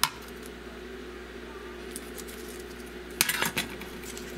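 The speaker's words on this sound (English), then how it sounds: "Just stirring that." Conductive paint for electroforming is stirred in a tub, giving a few brief scraping clinks that bunch together partway through, close and moderately loud over faint background hum.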